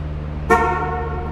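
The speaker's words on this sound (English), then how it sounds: "You can see where I honked the horn several different times." A recorded sample of a car horn: one loud, close honk that begins sharply and holds steady for about a second over a constant background hum.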